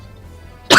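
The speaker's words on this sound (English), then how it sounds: "You know that whistling in the cough?" A single short, sharp cough bursts out close and loud after near silence, with a thin whistling edge to it.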